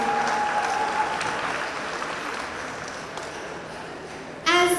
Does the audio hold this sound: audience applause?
yes